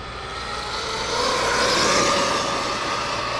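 Arrma Kraton 8S RC car with a 780kv motor and speed gears at full throttle, a high, whining electric motor rush that swells as it approaches and then fades slightly as it passes.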